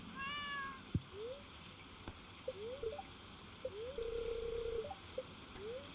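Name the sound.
cat meowing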